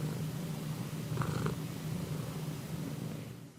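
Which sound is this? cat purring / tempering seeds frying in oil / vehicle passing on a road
cat purring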